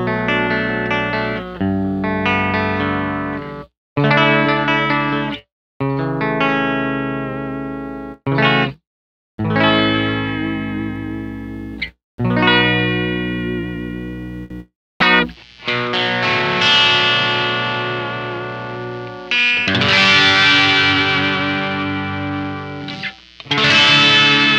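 Distorted electric guitar played through a pedalboard into a 4x12 cabinet impulse response with Greenback speakers, loud chords and riffs broken by short pauses, growing brighter and denser toward the end, no voices.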